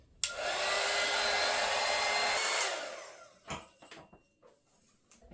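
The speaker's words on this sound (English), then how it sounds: "please excuse me while I run the heat gun" A heat gun blasts steadily for about two seconds while shrinking protective skins onto an Arrma Outcast 8S RC car chassis, a loud airy roar that winds down, followed by a few faint clicks and handling knocks.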